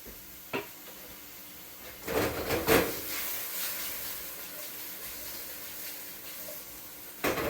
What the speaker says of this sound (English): let's give this a little bit of a sear